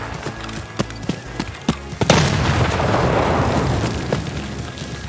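An impact grenade goes off in a video game: light clicks and thuds lead into a sudden loud blast, followed by a long rumbling, noisy roar that stays steady to the end.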